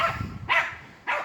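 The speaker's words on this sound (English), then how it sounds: "my dogs are fighting" Two dogs bark indoors, two sharp, somewhat muffled barks about half a second apart with a softer growl-like sound between them.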